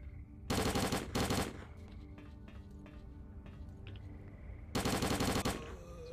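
Full-auto gunfire from a rifle in the video game STALKER Call of Pripyat: two loud sustained bursts, one early and one near the end, with quieter game ambience and scattered thuds between them.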